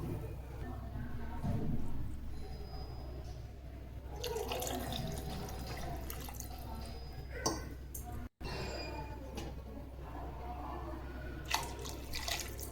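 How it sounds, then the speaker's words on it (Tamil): Water is poured from a tumbler into a pot for samba wheat upma, a close, running splash and trickle with small clinks, repeated in a few separate pours. "ஸோ இங்கே நான் 6 டம்ளர் தண்ணி ஊற்றணும்."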